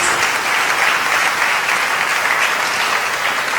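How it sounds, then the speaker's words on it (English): An audience at a live innovation competition applauds a round of presentations, dense close clapping that stays loud and constant from start to finish. "Can we have a round of applause to all the 4 presentations, please?"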